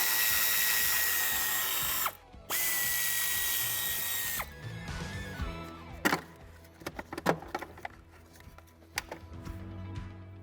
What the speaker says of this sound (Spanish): Aflojaremos las dos tuercas que nos sujetan el recubrimiento.